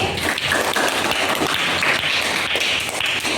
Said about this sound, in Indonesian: sekali tepuk tangan untuk Willy.